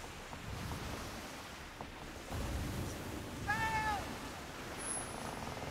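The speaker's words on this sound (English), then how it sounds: "Cat is visiting me, which is nice." A cat meows once, short and clear, in the pirate game Skull and Bones, heard over steady wind and ocean surf.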